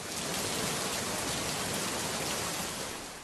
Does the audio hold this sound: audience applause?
no